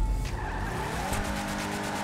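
Car tires skid and squeal during fast driving in GTA 5, a continuous screech over a steady engine drone, close and fairly loud with no talk.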